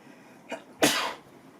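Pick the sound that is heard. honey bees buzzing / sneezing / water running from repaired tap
sneezing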